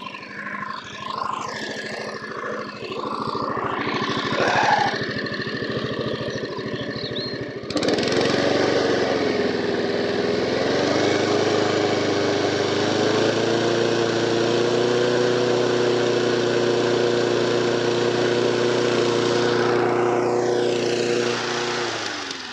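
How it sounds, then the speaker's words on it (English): A Honda HR173 lawn mower engine idles, then revs up and runs steadily at high throttle, a loud, close, continuous droning hum with a slight pitch wobble, with no speech over it. "Just want the throttle turning down a little bit on full speed. It might be just revving a bit too high"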